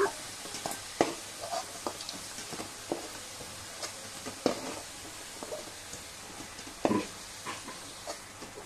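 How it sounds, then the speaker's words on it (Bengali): Stinging catfish fries lightly in oil in a pan, giving a soft, quiet sizzle with faint spatters and scattered utensil clicks every second or so, heard alone without speech. "তো ভাজা হচ্ছে, হালকা ভেজে তুলে নিলাম"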